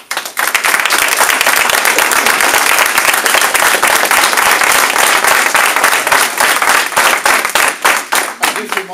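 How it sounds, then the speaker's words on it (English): Sustained loud applause fills a town council meeting after a public comment on hospital privatization, with a thick crowd of clapping hands and a few cheers running unbroken for the whole stretch. "the extended applause eats up some of the comment time"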